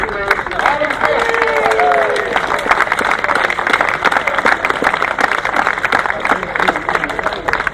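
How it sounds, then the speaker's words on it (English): A grasstrack meeting crowd at the 2015 British Masters Challenge applauds the 2015 Clubman's champion: dense, steady clapping sustained throughout, with a voice speaking over it near the start. "Big round of applause."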